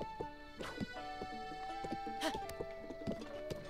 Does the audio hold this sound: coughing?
no